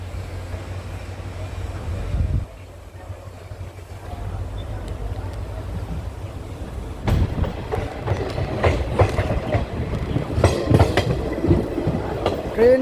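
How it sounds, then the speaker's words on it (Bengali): A train pulls out of Damdim station on a forested rail line near tea gardens, a low engine hum giving way to building clickety-clack of wheels on rails with rattling carriages and occasional sharp knocks. "এখন আবার ডামডিম থেকে ট্রেন ছেড়ে দিল"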